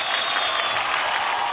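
A studio audience on a television singing show breaks into loud, dense clapping that continues throughout, with no talk over it.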